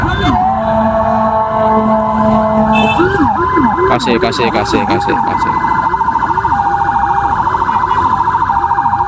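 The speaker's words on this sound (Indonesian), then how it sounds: "Oke, ada ambulan." A wailing ambulance siren sweeps up and down loudly and close, shifting through several tones, with a brief spoken word over it.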